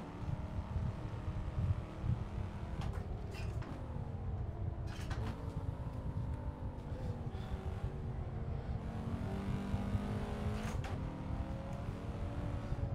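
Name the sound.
race cars in a racing video game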